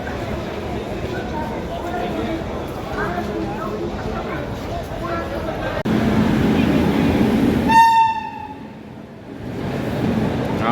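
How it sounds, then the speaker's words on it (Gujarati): Somnath–Veraval passenger train pulling into Kothariya station: a steady rumble of rolling wagons rises, then one loud, long horn blast sounds close by, while people talk nearby throughout. "આપણી ટ્રેન આવી ગઈ ભાઈ,"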